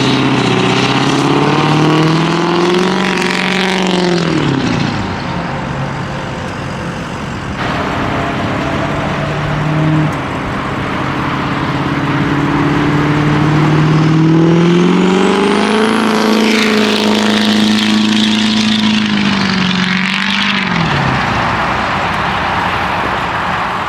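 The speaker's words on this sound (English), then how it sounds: "I hope you all enjoyed that little drive-by. That was right around half throttle." A built 6.0 Powerstroke diesel truck passes at about half throttle, its loud engine note climbing and falling in pitch as it approaches and moves away, then comes by again, with no talk over it.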